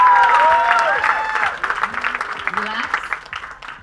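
A crowd at an OCB Big Apple Pro/Am women's physique novice bodybuilding show cheers, whoops and applauds the competitors. The sound is loud and dense at first, then thins into scattered claps and shouts with voices mixed in.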